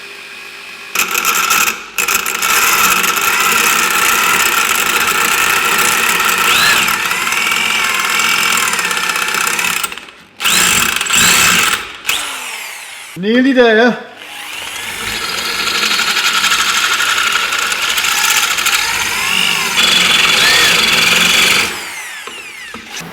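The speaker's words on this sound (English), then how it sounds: "The object is to get just the right amount of pressure on the drill while having the right speed." Power drill boring into the front ball joint of a Mercedes Vito, a steady loud whine running for long stretches, cut by brief pauses and a short burst of rising squeals midway, with a voice speaking briefly.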